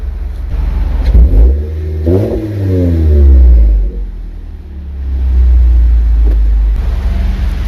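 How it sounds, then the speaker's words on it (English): A car engine revs hard several times through an aftermarket exhaust, the exhaust rising and falling in throaty bursts with a deep rumble between pulls. "You're gonna love that exhaust sound"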